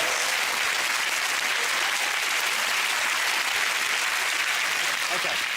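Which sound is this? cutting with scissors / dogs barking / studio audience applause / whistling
studio audience applause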